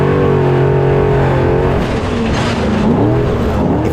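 Spec truck running down on power through desert whoops in the Mint 400 off-road race, its engine roaring loudly and continuously up close, pitch rising and falling with throttle and gear changes, with no voices.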